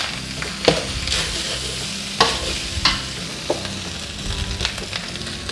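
Thai fried rice stir-fried in a pan with oyster sauce, dark sweet soy sauce and fish sauce, giving a constant close sizzle punctuated by sharp spatula scrapes and knocks at irregular intervals, no speech.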